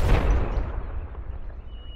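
A cartoon cannon loaded with corn kernels fires one loud, booming blast that starts at full force and fades into a rumbling decay, with no talking.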